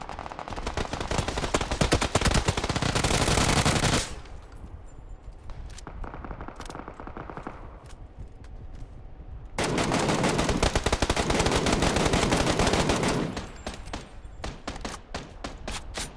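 MK14 rifle gunfire in PUBG, loud sustained bursts of rapid shots in two long strings with a quieter pause between, followed by more scattered shots.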